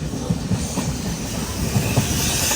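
A train running into Tirur railway station in Kerala, a steady broadband rumble of rolling wagons with faint wheel clatter and hiss, close and continuous throughout.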